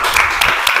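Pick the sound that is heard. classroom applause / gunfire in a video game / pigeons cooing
classroom applause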